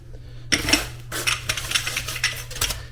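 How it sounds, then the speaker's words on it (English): Loose ceramic subway tiles clink and clatter as they are mixed together by hand, with bursts of bright rattling contact in an irregular rhythm over a low background hum. "mixing all the tiles."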